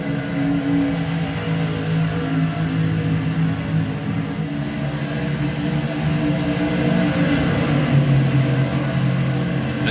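Race trucks accelerate at a green-flag restart at Charlotte, their engines making a steady, loud, droning rumble close by, with no voices over it.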